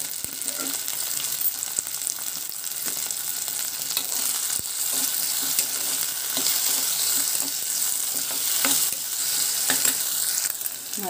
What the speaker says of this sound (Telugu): ఇప్పుడు బెండకాయ ముక్కలు వేసి వేయించుకున్నాము.